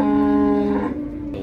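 A single loud, close moo from cattle at a livestock fair in Cachoeirinha, a sustained low bellow that fades toward the end, with no talk over it.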